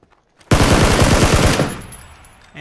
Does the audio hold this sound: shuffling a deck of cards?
no